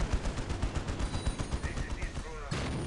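A Ragnarok tank's turret cannon fires during a Death Korps of Krieg versus Thousand Sons battle in Warhammer 40,000: Dawn of War Unification, with rapid, loud repeated blasts mixed into dense battle noise for most of three seconds.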